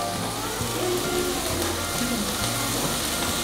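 Onions and green chillies for chicken biryani fry in a pan, giving a steady dense sizzle throughout with a few soft clinks and stirring knocks, close and fairly loud.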